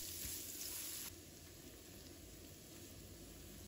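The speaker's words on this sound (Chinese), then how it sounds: "锅里留底油，把姜蒜放入锅中，" Ginger and garlic stir-frying in leftover oil in a wok, a steady close, loud sizzle with dense crackling that drops slightly in intensity about a second in and then continues evenly.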